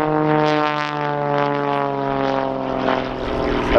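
An Xtreme Air XA41 aerobatic plane's engine drones loudly and steadily through a torque roll at an air show display, its strong buzzing propeller tone swelling slightly without any talk.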